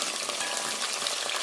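Onions and curry leaves frying in oil for a fish curry give a steady, bright sizzle with no talk, close and even in level throughout.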